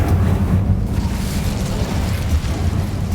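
An Incendio fire spell in Hogwarts Legacy produces a loud, continuous roaring burst of flame that stays dense and steady throughout.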